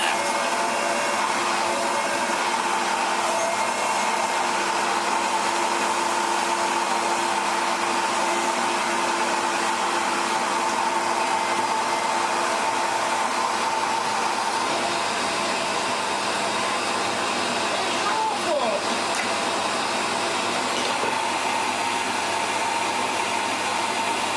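A 1980s Goblin Solo vacuum cleaner runs steadily with a constant airy whine and broadband suction roar, unchanging for the whole stretch with no talk over it.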